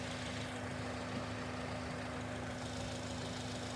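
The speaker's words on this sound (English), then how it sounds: "the car is running" A car engine idles steadily, a continuous low hum with a faint tonal whine throughout, evenly loud and nearby with no talking.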